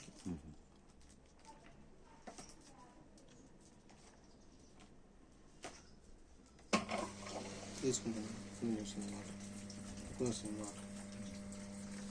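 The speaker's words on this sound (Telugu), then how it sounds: "నిలబడిపోయి ఇప్పుడు నీళ్ళు తీసుకుంటుంది." A washing machine drum stands still while water pours in to fill it, a steady rushing flow that grows louder partway through with soft knocks and clatter, alone without talk.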